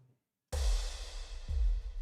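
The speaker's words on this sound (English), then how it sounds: "so the cymbal sounds like this" A sharp cymbal crash from the Zero-G Elements Kepler 2 plugin bursts in after a moment of silence, bright and sustained, with a second hit near the end ringing over a low rumble.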